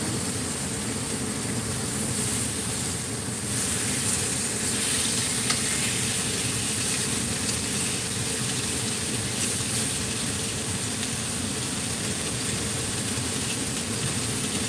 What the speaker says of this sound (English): Just want to give it a good sear, that's all